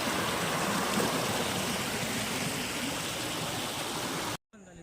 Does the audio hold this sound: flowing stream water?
yes